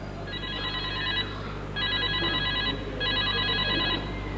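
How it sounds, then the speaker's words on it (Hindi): A telephone rings during a comedy stage drama, giving three bursts of bright electronic trilling separated by short pauses over a low background hum. "टेलीफोन आ रहा है मेरा।"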